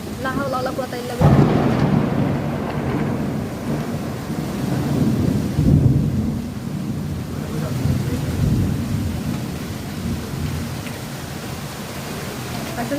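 A Kalbaishakhi thunderstorm: heavy rain hisses steadily while deep thunder rumbles roll in twice, strong and near. Someone speaks faintly beneath the storm.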